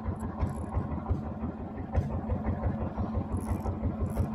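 A fishing boat's engine idles on a snapper fishing trip, giving a steady, close, low throbbing chug that holds an even rhythm throughout.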